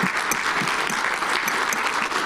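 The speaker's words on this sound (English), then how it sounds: "Audience, I want you to give the panel a round of applause for that." A steady, dense round of audience applause for a panel at a Black Men's Mental Health Conference, filling the clip loudly and evenly with no talking.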